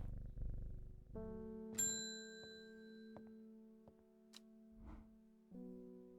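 A cat in the video game Strange Horticulture purrs in a low, rumbling stretch at the start, followed by sustained tonal game chimes and soft clicks, all faint and quiet.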